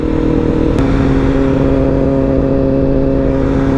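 Motorcycle on a break-in ride right after an oil change, cruising at a steady pace. The engine holds a close, continuous drone throughout with no voices.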